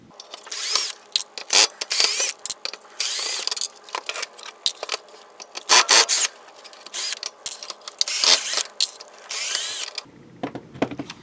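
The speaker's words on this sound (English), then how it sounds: "we're going to remove these 6 screws on the cartridge housing" Six screws come out of an NES cartridge housing with a screwdriver, making close clicky ratcheting turns and small metallic clinks in irregular bursts, then a brief clatter as a piece is set down.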